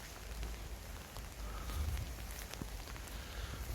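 Rain falls outdoors, a soft, steady patter with scattered drops and low rumbling background noise throughout, faint and continuous with no voices.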